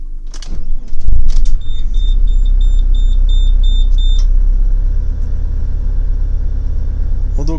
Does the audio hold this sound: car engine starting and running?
yes